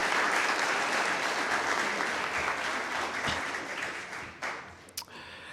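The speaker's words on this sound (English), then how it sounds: "may we have one more round of applause" An audience at an awards ceremony applauds with dense, sustained clapping that gradually thins and fades toward the end.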